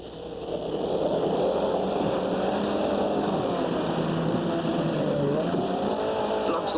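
A Chrysler outboard motor driving a boat through churning surf, with a loud, continuous high-revving drone and a wavering pitch, plus rushing water beneath it, heard up close.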